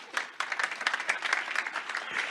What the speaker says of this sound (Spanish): Un aplauso, por favor, Marcelo